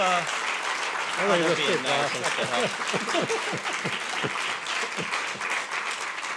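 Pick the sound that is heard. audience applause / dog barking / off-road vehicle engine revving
audience applause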